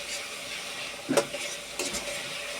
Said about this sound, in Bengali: ভালোভাবে মেশাতে হবে যাতে স্মেলটা চলে যায়।